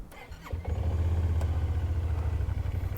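A 2024 Kymco AK550i Premium scooter engine fires up after a brief rattle and settles into a loud, steady, close idle with a low pulsing throb. No one speaks.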